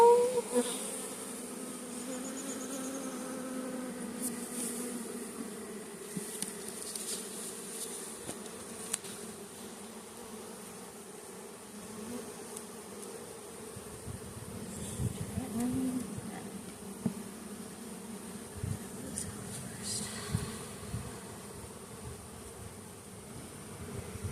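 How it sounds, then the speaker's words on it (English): Honey bees swarm and buzz steadily around an open hive while wonky comb is being fixed, a dense, continuous drone close by with individual bees flitting past the ear; there is no talking. "so many bees"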